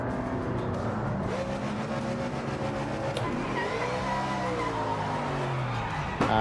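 Race car engine in a sim racing video game, continuous and loud with shifting revs as the car loses traction and spins out, a brief tire squeal near the end.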